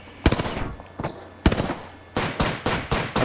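Rapid automatic gunfire in the game Apex Legends, sharp loud bursts of repeated shots in several separate volleys with brief gaps between them, no voices.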